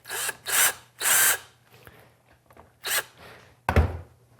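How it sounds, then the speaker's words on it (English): Short power-drill bursts with a countersink bit cleaning and tapering a screw hole in a Tusk Holeshot fork guard brace, about five separate whirs with quiet gaps and a final thunk. "I'm going to use the countersink on both sides"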